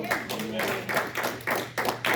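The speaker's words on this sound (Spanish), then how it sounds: "Dale un fuerte aplauso a tu Dios." A church congregation applauds together in a steady rhythm, with bursts of claps about twice a second, loud and close, while voices carry through the clapping.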